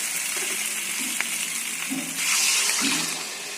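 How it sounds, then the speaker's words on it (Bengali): Water poured into fully cooked-down frying masala swells the steady hiss into a louder, brighter sizzle for about a second, with a few soft utensil knocks around it. "কষানো হয়ে গেছে একদম পুরো এবার দিয়ে দেবো এই জলটা"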